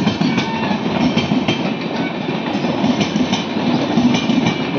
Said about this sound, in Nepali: यो चाहिँ उता भुवनेश्वरहरूबाट आएको ट्रेन